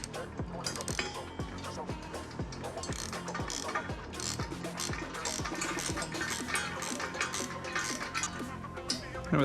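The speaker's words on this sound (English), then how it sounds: "Now you have a ratchet and a 13 deep socket." Ratchet wrench with a 13 mm deep socket tightening a nut on a Tuwa Pro Shiprock mid-height bed rack on a third-generation Nissan Frontier, with a steady run of rapid clicking pawl ratchets and dense metallic clatter close up.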